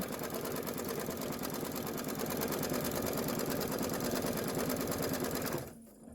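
An embroidery machine runs a basting stitch through a hooped quilt block, a steady loud rapid needle chatter that continues evenly for most of the stretch before cutting off near the end.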